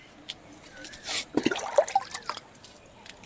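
Water splashes and trickles into the parched soil of a dry plant pot, a soft wet gush with a few drips, quiet and close, with faint background murmur.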